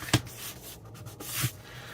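Excess paper is trimmed away from a handmade card, heard as two brief, close scraping cutting strokes separated by a soft rubbing pass, with quiet room tone between them.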